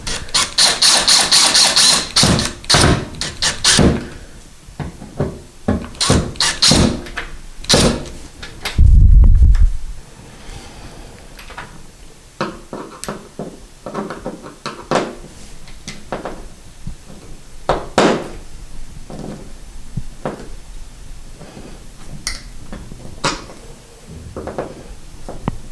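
Screws are tightened while a towel ring is installed, giving bursts of short ratcheting and clicking sounds close by. A brief low thud comes partway through, and then quieter intermittent ticks follow.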